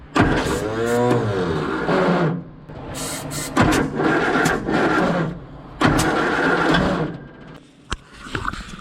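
A budget Morris Minor's engine cranks repeatedly in bursts of whirring starter motor, each attempt stopping short of catching, recorded close from under the bonnet.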